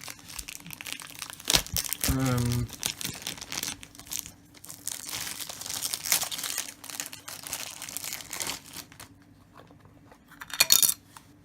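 A plastic bag crinkles as a remote control for an Onkyo A-9010 amplifier is pulled out of it. The rustling is intermittent and close, with a brief tonal squeak and a clink near the end.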